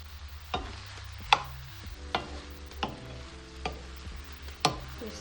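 Corned beef with white pepper being stirred in a pot: a quiet bed of sizzling broken by sharp spoon-on-metal clinks roughly every second, with no talking.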